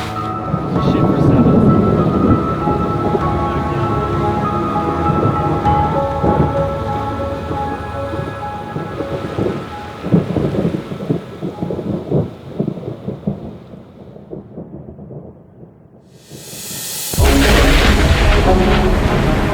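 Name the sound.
thunderstorm with heavy rain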